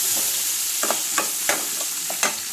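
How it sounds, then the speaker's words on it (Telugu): Onions and green chillies frying in an oil tempering, a steady sizzle punctuated by several sharp scraping stirs in quick succession. "మంచిగా వేగనివ్వండి. మంచిగా వేగుతుంది."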